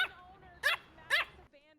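A dog in a video game gives two sharp, loud barks in quick succession against a quiet background, followed by a softer whine.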